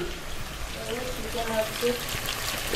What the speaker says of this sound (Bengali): চিকেন ফ্রাই হচ্ছে, কাঁচা আলু ভাজার বেরেস্তা।